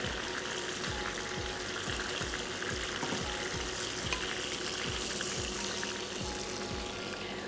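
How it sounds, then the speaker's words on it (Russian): Meat patties frying in oil in the same pan the meat was just cooked in, giving a steady, close sizzle and crackle throughout with no talking. "в этом же масле обжарим наши котлеты"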